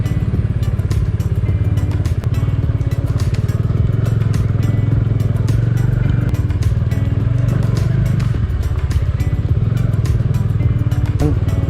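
Loud, continuous engine drone of a Bajaj Dominar 400 motorcycle under way, with steady wind rush and occasional thumps and clatter from the ride.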